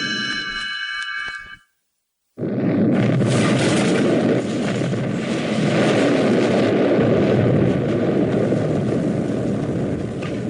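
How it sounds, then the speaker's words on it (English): Loud explosions rumble across an Arctic landscape after a thrown stick of dynamite, a sharp cut to silence followed by a sustained, heavy roaring blast that fills the rest of the clip. "Explosions rock the Arctic landscape."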